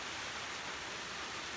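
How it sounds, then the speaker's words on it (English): Steady, dense rain pattering on a studio roof, a constant close hiss of drops with no breaks and no voices. "It's always nice to hear that pitter-patter, the rain on the roof while you're in a nice warm studio."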